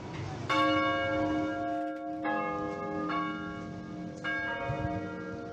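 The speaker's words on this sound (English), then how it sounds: "that was the Sunday call for people to attend church" Church bell of Agia Sotira in Mykonos ringing the Sunday call, several loud resonant strikes with long ringing overtones that overlap and decay, struck again roughly every second or so over faint outdoor ambience.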